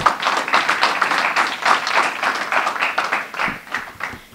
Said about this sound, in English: Can we give another round of applause for him?